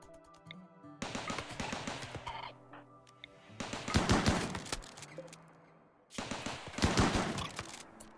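Gunfire rattles in the colony-building video game RimWorld, with three dense bursts of rapid shots and sharp impacts separated by short lulls, loud and busy, with no talking.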